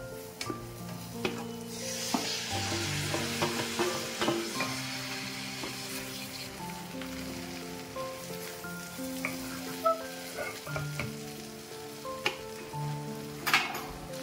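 Mixed vegetables, dhaba style, frying in a hot spice tempering, with a continuous sizzle under repeated stirring scrapes and light clinks of a spoon against the pan, close by and without voices.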